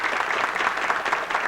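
Audience applause at a Canadian evening party (soirée canadienne) in a parish hall in Ste Monique, a steady dense clapping from a crowd filling the short moment without talk.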